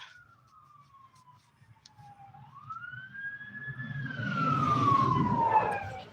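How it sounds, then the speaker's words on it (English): A single police car siren wails in a long gliding tone, falling then rising, as traffic rumble swells and the police car passes nearby. "Got a cop going by all of a sudden. A lot of sirens lately."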